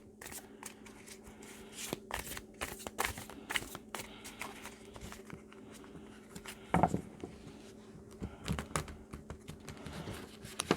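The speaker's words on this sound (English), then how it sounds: "I'm going to take my time and shuffle" Tarot cards are shuffled by hand in quick, crisp riffles and soft slides, with irregular bursts of papery flicking and tapping close by, quiet and continuous over about ten seconds.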